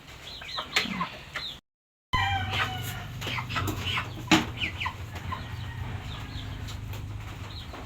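Live chickens in a box with holes in its sides, clucking and squawking repeatedly up close, a brief dropout early on and a low hum beneath the calls.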